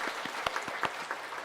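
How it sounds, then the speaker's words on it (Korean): A church congregation at a Sunday sermon gives a brief round of applause, soft scattered claps at a steady moderate pace from a room-filling group, fairly faint. "우리 모두를 위해서 한번 박수 한번 하겠습니다."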